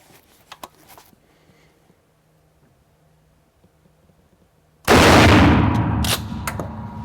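A Remington Model 870 DM shotgun fires a single shell at 20 yards on an outdoor range, a sudden loud close blast after a quiet stretch, ringing and decaying for about two seconds.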